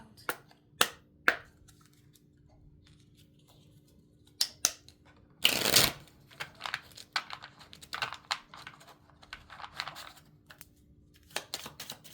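Tarot deck handled and shuffled, with scattered light taps and card flicks and one brief loud riffle burst midway, close and quiet with pauses between.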